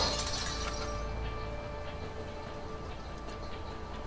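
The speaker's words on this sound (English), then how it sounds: "Let's see if we can use something around here to bust it open." An axe smashes a lock in the video game A Way Out: a sharp crash that bursts out loudly and then rattles and fades into a noisy tail.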